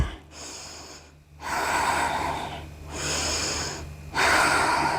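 Slow, deep breathing during a Hatha yoga pose, with long airy inhales and exhales in a steady cycle, close and fairly loud, with no talking.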